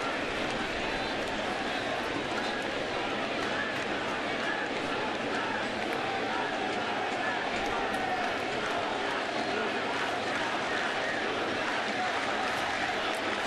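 Crowd buzz fills a ballpark during a Yankees at Mets baseball game, a dense, steady roar with scattered applause running throughout, and an announcer talking over it.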